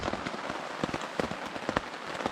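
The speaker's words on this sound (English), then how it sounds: "It's been raining all day." Steady rain falls on a wilderness campsite during a solo canoe trip in Algonquin Park, a dense patter of close drops with sharper individual splats, continuous and fairly loud with no voices.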